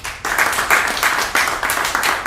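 An audience at a stand-up comedy show breaks into dense, crackling applause that rises after a brief pause and carries on steadily, loud and close.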